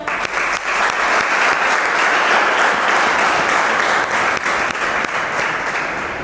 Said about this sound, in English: Clap for Asha.